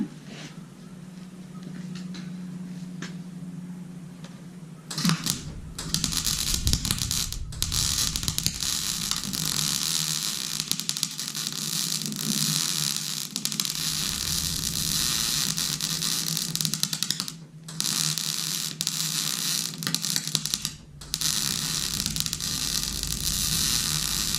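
Steady crackling, sizzling hiss of arc welding in cool weather, loud and continuous with brief breaks where the arc stops, on a farm build of a John Deere tractor trailer mover.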